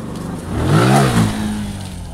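A mid-sized vehicle comes up from behind on a road and passes close by, its engine swelling to a loud peak in the middle before fading gradually as it moves off.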